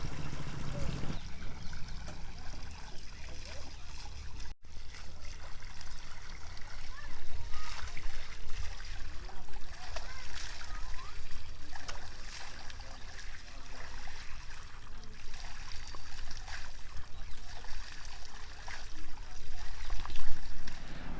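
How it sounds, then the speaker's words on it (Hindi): Water runs steadily from a village tap in Majhouli, a continuous splashing trickle heard up close throughout with faint outdoor ambience and no voices. "मझौली गांव में लगातार पानी बहता जा रहा है उस नल से।"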